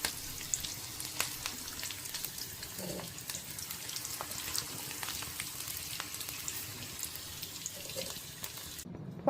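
Potatoes deep-frying in hot oil give a steady, soft sizzle and crackle that carries on throughout, close but quiet, with faint clinks of stirring and no talking.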